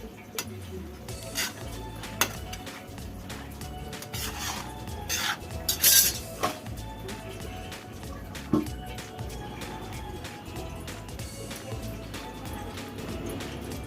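Dishes and pots clink and rattle in a home kitchen as they are handled and stacked, with irregular knocks and a brief brighter clatter midway, steady and fairly close.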